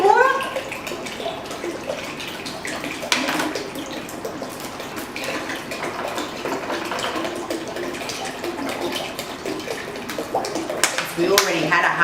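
Cool water pours steadily into a vessel for kombucha, a continuous splashing, running-water wash that holds at a fairly even level for the whole stretch, close by, with a brief louder surge near the end.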